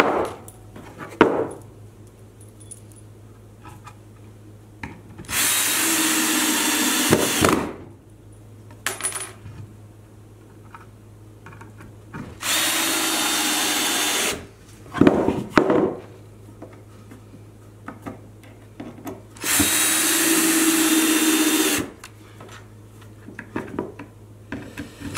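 A power drill drives screws into a wooden soap mold built from scrap wood, in three loud sustained bursts of a few seconds each, separated by quieter handling clatter and knocks.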